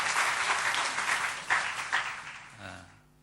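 A church congregation applauds during a Sunday worship service, a dense wash of clapping that swells, holds for a few seconds and then fades away to quiet.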